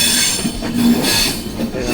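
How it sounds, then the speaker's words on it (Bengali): Vistadome coach on the Araku to Jagdalpur line changing tracks, loud continuous rumble of wheels with high metallic squealing rising and falling over it, heard from inside the moving train. "ট্র্যাক চেঞ্জ করছে ট্রেন"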